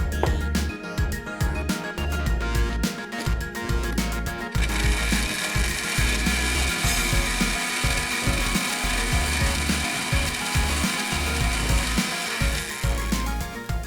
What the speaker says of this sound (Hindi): अब बस सिंपल क्या करेंगे, इसको ब्लेंड कर देंगे।